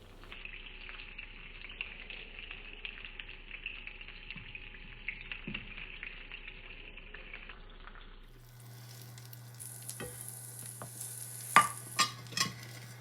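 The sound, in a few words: diced guanciale cooking in olive oil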